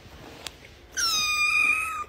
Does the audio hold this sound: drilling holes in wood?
no